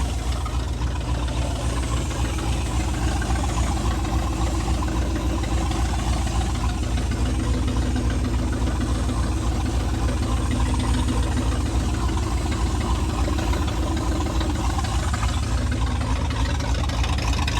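A truck engine idles while warming up and building air pressure before moving a Palfinger PK12000 crane, running as a loud, continuous, rhythmic diesel chug close by with no voices.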